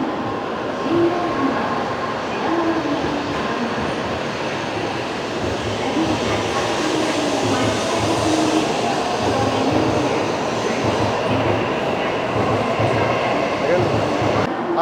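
A Japanese bullet train at high speed gives a loud, steady rail rumble and rushing roar for about fifteen seconds, heard up close, with faint voices under the noise.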